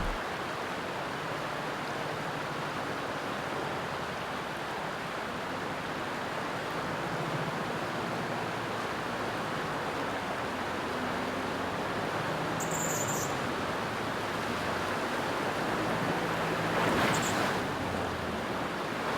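Water at Cockatoo Creek, a shallow, rocky-bottomed crossing on Cape York's Old Telegraph Track, makes a steady, even rushing wash mixed with wind noise for the whole stretch, with no talk.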